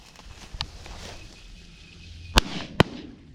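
Shotgun blasts during a bird hunt with dogs, two sharp, loud cracks fired in quick succession near the end after quieter rustling and a small earlier pop, outdoors and close.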